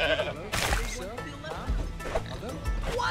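A goat bleats in Goat Simulator 3, with several wavering, nasal cries rising and falling across a few seconds, fairly close and mixed in with ongoing talk from people nearby.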